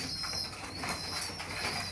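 Racing pigeons coo softly from a loft, low throaty murmurs blending into a busy background of bird sounds over a couple of seconds.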